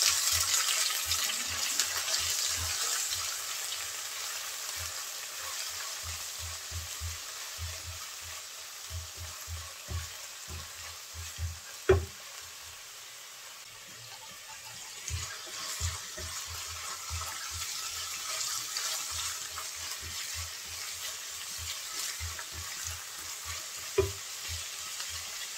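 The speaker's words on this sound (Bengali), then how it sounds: "মশলাটা একটু ভেজে নেব" Onion paste, ginger-garlic paste, bay leaf and green chillies frying in hot oil for a vegetable curry, a steady close sizzle with repeated soft stirring scrapes and a few sharper clinks, no talking.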